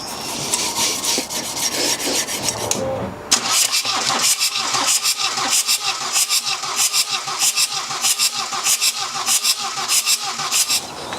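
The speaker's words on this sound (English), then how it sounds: "When I say run the engine, crank the engine over" A diesel engine with a snapped glow plug cranks over to blow carbon and brake cleaner out of its intake ports. A scraping rumble gives way to a fast, even chugging of loud starter-driven cranking pulses, close up.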